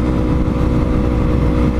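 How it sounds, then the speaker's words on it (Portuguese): A Yamaha MT-03 two-cylinder motorcycle engine roars loud and steady up close, a continuous low rumble throughout. "ouvir o ronco do G-Scape, que ela tá aqui"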